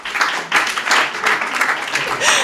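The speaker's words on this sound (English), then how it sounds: "Please give him a round of applause." Applause from the audience at a panel discussion on ending violence against women, several close swelling bursts of clapping that rise and fall in quick waves.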